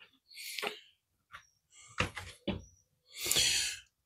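A house side door is worked in the aftermath of Hurricane Milton in Tampa, with a string of close knocks, latch clatter and swishing scrapes, some sharp, separated by short silences.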